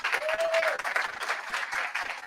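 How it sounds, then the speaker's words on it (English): A church congregation claps for the Spanish-speaking ministry during a Sunday service, a continuous, fairly loud round of applause from many hands in a reverberant room. "So let's give the Spanish-speaking ministry a round of applause"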